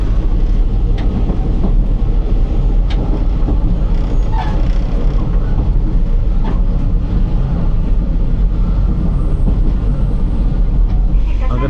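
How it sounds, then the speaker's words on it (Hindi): A village train in Japan rumbles along with a loud, continuous clatter and a few faint clicks, with talk in the background. "ऐसे होते हैं जापान के जो गांव हैं उनके ट्रेन"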